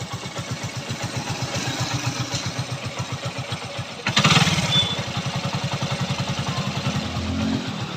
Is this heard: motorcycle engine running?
yes